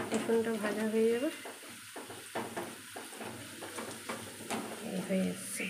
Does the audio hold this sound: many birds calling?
no